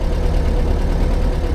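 A warmed-up Porsche Speedster engine running loud and close, a steady low throbbing idle with an even pulsing rhythm and no talk.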